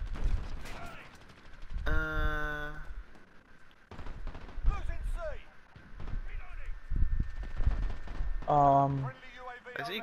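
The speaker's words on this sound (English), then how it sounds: "I see gunshots going off, but I don't see anybody." Gunfire crackles in short bursts during a Call of Duty: Modern Warfare match, the shots scattered and mid-distance, interleaved with game music stabs and other effects.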